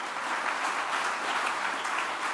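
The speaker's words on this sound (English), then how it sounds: "So please give him a round of applause for coming." Audience at a book talk gives a round of applause, an even, dense wash of clapping that holds steady for a few seconds with no voices over it.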